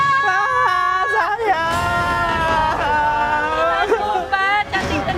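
A woman's high-pitched, sustained screams and wails ring out over a murmur of background voices.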